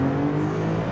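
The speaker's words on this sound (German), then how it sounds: "Also, Vollgas rückwärts." A Porsche 911 Targa 4S engine drones steadily under full throttle while reversing, a brief loud sustained tone with no voices.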